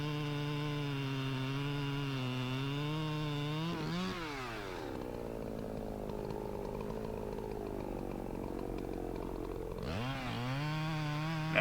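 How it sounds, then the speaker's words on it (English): A chainsaw cutting through a white oak log, the engine droning steadily, then bogging into a lower labored pitch mid-cut before revving back up, close and loud with no talking. "so I can get my motor, swing my saw motor down through there as I cut a little stump coming through here"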